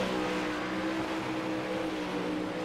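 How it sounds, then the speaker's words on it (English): A steady, droning 360 sprint car engine hum in the iRacing game at Williams Grove, with a constant pitch, sustained throughout without pause. "You can hear the car start to RPM just at the end of the turn"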